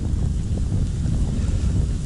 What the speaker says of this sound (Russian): Опять ветер